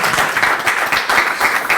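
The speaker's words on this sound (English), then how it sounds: "how about a round of applause for Julia?" An audience at a veterans salute luncheon in a school gives a short burst of steady applause for the event's MC, a dense clapping texture that stays even and fairly close throughout.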